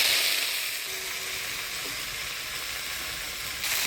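Chopped lafa greens drop into hot oil tempered with radhuni and dried red chillies, and a moderate, continuous sizzle with a faint hiss fills the clip with no voices.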